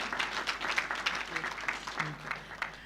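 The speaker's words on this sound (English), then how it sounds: "Let's give her another round of applause, please" Applause at a university graduation ceremony in Nairobi for the outgoing chancellor: fairly faint, scattered clapping from a crowd, with individual claps audible in an uneven rhythm.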